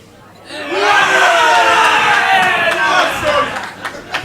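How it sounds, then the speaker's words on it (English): A snooker match crowd breaks into a loud surge of murmuring and exclamation that swells quickly, holds for a few seconds, then fades into scattered noise. "I think you heard the crowd then."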